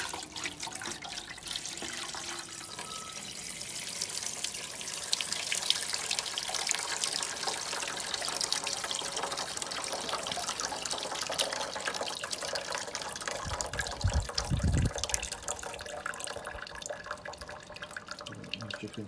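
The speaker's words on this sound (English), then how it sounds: "It's dripping through there nicely." Water from a rain simulator trickles and drips steadily through soil for a long stretch, a close wet patter with a brief low thump near the end.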